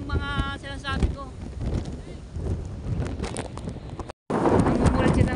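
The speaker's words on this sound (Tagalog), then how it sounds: "Malakas po ang hangin." Strong Super Typhoon Uwan wind buffets the microphone in heavy continuous gusts, with a voice speaking over the roar throughout and a brief dropout near the end.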